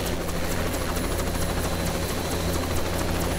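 A helicopter flying in the video game Arma 3, a loud, dense engine roar with a rapid rotor chop, steady and close throughout.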